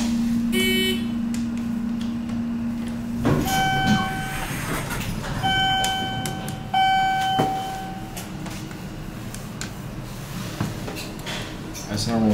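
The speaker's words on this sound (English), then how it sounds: "Elevator." A Downey-Goodlein hydraulic elevator runs with a steady low hum, overlaid by sustained tonal whines, a couple of clunks and a ding-like chime, recorded close inside the car.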